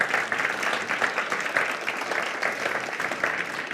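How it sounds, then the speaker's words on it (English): A conference audience gives steady, dense applause for the rapporteurs, a sustained round of many hands clapping at moderate distance without any break. "let's give a big round of applause for our rapporteurs"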